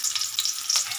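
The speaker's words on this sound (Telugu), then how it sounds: "మిరపకాయలు కొంచెం వేగినాక ఆనియన్స్ కూడా వేయాలి" Chillies and onions fry in a pan with a soft, continuous sizzle and crackle. The sound is quiet and close, with no voices.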